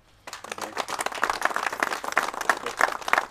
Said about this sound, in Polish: Tutaj by się należały duże brawa